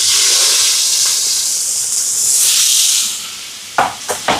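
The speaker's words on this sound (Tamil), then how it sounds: "எண்ணெய் சூடாயிட்டு கருவேப்பில் பச்சை மிளகாய் வெங்காயம்" Curry leaves, green chilies and onion sizzle loudly in hot oil, a steady close hiss and crackle for several seconds, then a few sharp stirring clatters near the end.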